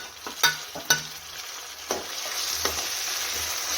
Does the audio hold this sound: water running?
no